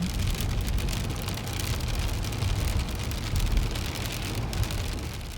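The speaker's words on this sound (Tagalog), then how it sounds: "sobrang lakas ng ulan" Heavy rain drumming steadily on surfaces, likely heard from inside a car, a dense continuous patter with a low rumble underneath and no talk.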